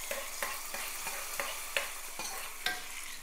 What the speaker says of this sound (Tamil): தாளிச்சிடலாம்.